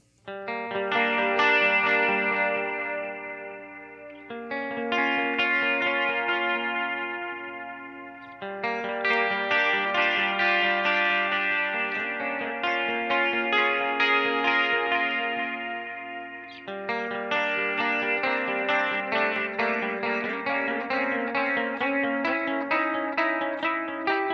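Electric guitar through a Line 6 DL4 MKII delay pedal on its analog delay setting without drive, sustained chords and notes trailing into soft repeating echoes, three phrases in a row with no talking.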